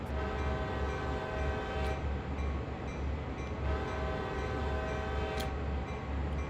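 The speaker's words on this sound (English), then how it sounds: "There is reverberation in the hills." A CSX heavy-haul freight locomotive horn in Train Sim World sounds in two long blasts that echo through surrounding hills over a low, steady rumble of the moving train.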